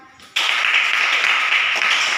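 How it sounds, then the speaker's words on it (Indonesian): A classroom of students bursts into clapping all at once after a brief quiet moment, a dense, even patter of many hands that carries on steadily at close range with no talking over it. "Tepuk tangan dulu."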